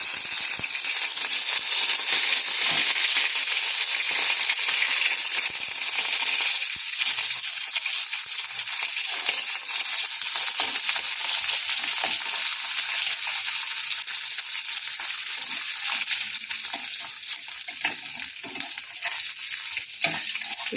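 Dried fish (shutki) frying in hot oil, a continuous loud crackling sizzle with dense popping that persists steadily throughout, no voices.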